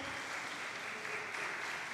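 A seminar audience on a university stage claps steadily throughout, a dense continuous wash of applause from many hands at an academic lecture on the history of Islam in Lombok.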